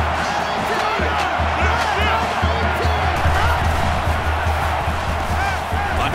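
A stadium crowd roars steadily throughout a college football game in NCAA Football 19, Texas A&M against Alabama, a dense continuous din with a low rumble and scattered whoops.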